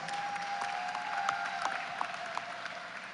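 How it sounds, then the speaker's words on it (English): Crowd applause at the opening ceremony of an international hockey event in Guyana, steady moderate clapping from a gathered audience, fairly distant and even throughout, with a faint tone running underneath. "So that's worth a big applause."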